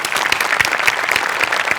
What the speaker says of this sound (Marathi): वा, जोरदार टाळ्या.